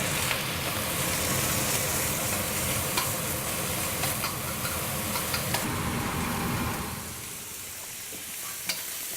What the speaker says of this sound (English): Sizzle that a little bit. Watch out, it splatters quite a bit.